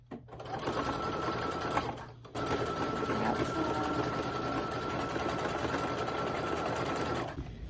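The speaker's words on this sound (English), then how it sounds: "Straight stitch and then zigzag." A sewing machine runs steadily through denim for jeans, a close, even mechanical whir with a short pause near two seconds before it resumes stitching and carries on to the end.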